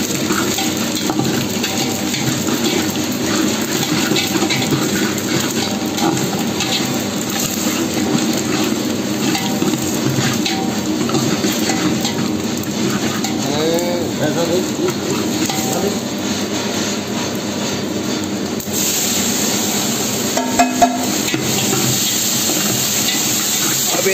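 Chopped tomato, onion and pumpkin fry in oil with cumin in a pan for sambhar, a steady loud sizzle and hiss running throughout with occasional stirring scrapes and clinks.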